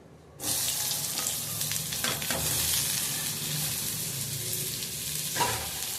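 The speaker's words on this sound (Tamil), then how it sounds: "கொஞ்சம் எண்ணெய் ஊற்றிக்கிறோம். வெங்காயத்தை வதக்கிக்கலாம்." Onions sautéing in hot oil in a pan for a ridge gourd chutney give a steady, close sizzle that starts suddenly and continues throughout, with occasional stirring scrapes.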